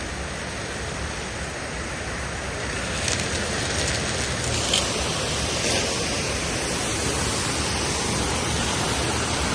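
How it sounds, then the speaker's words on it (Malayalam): Kappimala waterfall in Kerala roars as a dense, continuous rush of falling water, steady and close throughout with no talking. "എങ്ങനെയുണ്ടോ വെള്ളച്ചാട്ടം"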